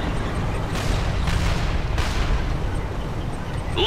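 Rolling, sustained battlefield booms from cannon fire in the real-time strategy game Red Alert 3, Soviet side, with dense low rumble and a few sharper bursts throughout.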